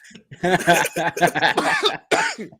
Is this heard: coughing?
yes